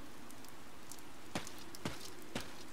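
Steady light rain patters in a Fire Emblem Three Houses battle scene, a soft continuous hiss punctuated by three evenly spaced sharp ticks or drips.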